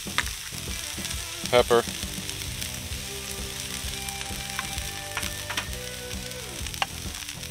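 Hash browns fry in a pan with a constant close crackling sizzle, with a few louder bursts of spattering early on; a voice speaks briefly over the frying.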